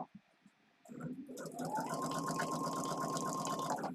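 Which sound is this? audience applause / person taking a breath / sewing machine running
sewing machine running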